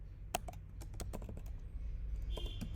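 Quick typing of JavaScript code on a computer keyboard, close and clear key clicks in an uneven rhythm over a low steady room hum, with no talking.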